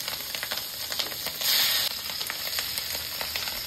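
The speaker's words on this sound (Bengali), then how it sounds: "এবার কিন্তু হলুদ আর লবণে মাখানো ডিমটা ভেজে নেওয়া হচ্ছে" An egg coated in turmeric and salt fries in hot oil, giving a steady close sizzle with a brief louder burst of spitting partway through.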